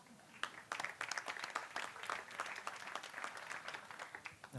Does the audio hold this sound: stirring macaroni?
no